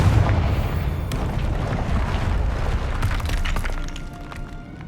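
A Confringo fire spell bursts in the video game Hogwarts Legacy with a dense, rumbling explosion that rolls on for several seconds before fading into quieter game ambience.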